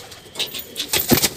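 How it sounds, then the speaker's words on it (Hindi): Kalyanpuri pigeons in a loft or net setup, with soft cooing and a few bursts of wing flapping rising toward the end, close by and moderately loud. "कल्याणपुरी के हैं कबूतर, उड़ते लड़ते हुए कबूतर"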